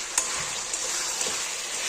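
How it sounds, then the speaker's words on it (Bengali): Goat meat sizzles steadily in oil in a pan, with chopped tomato added, as it is sautéed down; a constant close hiss with a few light clicks of stirring and no talk. "মাংসটাকে ভালো করে কষিয়ে নেব।"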